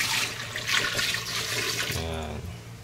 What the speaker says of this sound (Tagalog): Dagdagan ko lang konti tubig kasi matagal natin pakukuluan to eh.